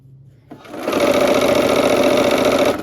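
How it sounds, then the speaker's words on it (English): Sewing machine stitching quilt pieces together, starting after a quiet moment and then running in a fast, steady, close mechanical whir until the end. "And sew these together."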